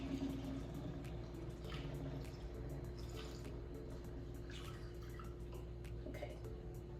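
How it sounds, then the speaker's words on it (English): Homemade tiger nut milk pours in a soft, continuous trickle, faint and steady throughout with a low background hum and light splashy flickers. "So let's pour this and we'll put it back in the fridge to get cold."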